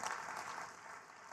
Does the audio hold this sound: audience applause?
yes